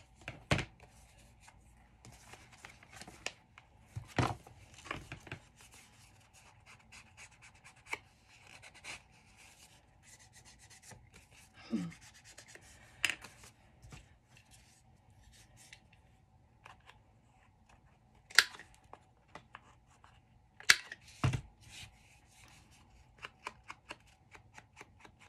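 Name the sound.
scissors snipping vintage paper ephemera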